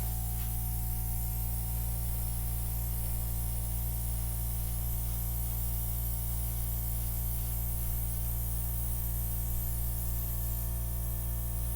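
Acrylic paint hisses steadily from an airbrush for about twelve seconds, a constant close spray under a low steady hum, with no talking.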